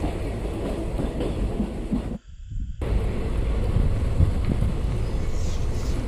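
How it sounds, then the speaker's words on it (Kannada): A passenger train pulls into Hagaribommanahalli railway station, heard from on board as a continuous loud rumble and wheel rattle, with a brief drop in sound partway through. "ನಮ್ಮ ಪ್ಯಾಸೆಂಜರ್ ಟ್ರೈನ್ ಈಗ ಹಗರಿಬೊಮ್ಮನಹಳ್ಳಿಗೆ ಎಂಟ್ರಿ ಆಗಿದೆ."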